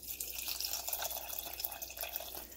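Water trickles and drips steadily into an Instant Pot of Italian escarole, bean and sausage soup, a faint, continuous pouring with no talking.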